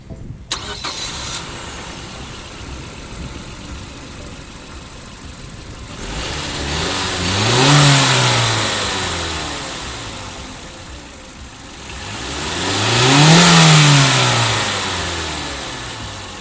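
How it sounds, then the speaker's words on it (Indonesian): The 2300cc turbocharged MZR inline engine of a Mazda CX-7 cranks and fires, settles into idle, then is revved twice in long smooth swells that rise and fall, close and loud with no talking. "kita dengar suara mesin 2300 cc turbocharged-nya."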